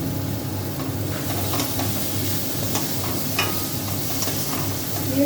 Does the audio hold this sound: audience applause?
no